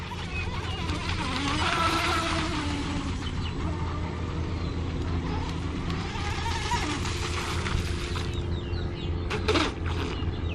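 A small hand-made, American-built RC boat runs on the water with a steady, continuous motor whine and broadband hiss that holds for the whole stretch, fairly close and without talk.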